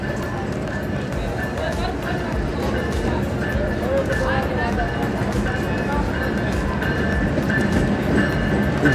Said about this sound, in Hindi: अभी पहुँच रही है 39 डाउन जाफर एक्सप्रेस जो कि कोयटा से पेशावर तक जाती है